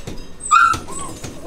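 A shelter dog gives a short, high whimpering whine, close by and fairly loud, with softer yelps around it and a quiet room behind.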